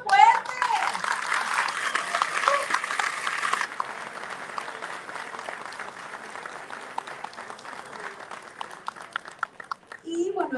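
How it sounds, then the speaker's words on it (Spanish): An audience applauds loudly and steadily at an anniversary ceremony for the Navistar Escobedo plant. The clapping is dense at first, then thins and fades, with a few voices near the end. "¡Un aplauso fuerte!"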